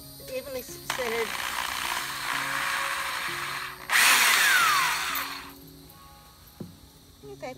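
A handheld power drill bores through fence wood about an inch from the board's end, a rising whine that grows harsher and louder as the bit pushes through, between quieter stretches where someone talks.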